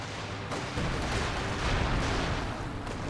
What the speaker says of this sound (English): artillery going down